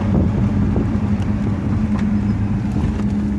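A 1970 Oldsmobile Cutlass SX convertible pulls hard under acceleration, its engine a steady, loud low rumble with strong harmonics, heard from close by with some wind noise and no talk.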